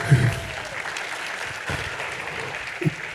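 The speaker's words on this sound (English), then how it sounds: "Let's give a hand clap for Dr. DeShazer." An audience claps for a speaker at a talk on AI, a steady wash of applause that stays even throughout, broken by a couple of louder thumps near the microphone.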